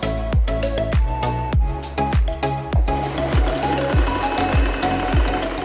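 A sewing machine running a narrow zigzag stitch along raw velvet edges, a loud, close, rhythmic mechanical thumping at about two beats per second over a steady motor whir, continuous throughout.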